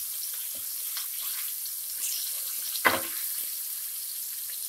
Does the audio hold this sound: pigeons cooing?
no